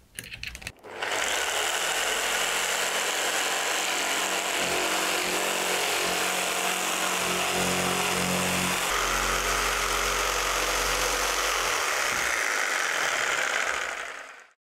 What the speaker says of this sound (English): We're going to be using a jigsaw cutter to trim the two moulds, and we're using a permagrip blade, which is a tungsten carbide blade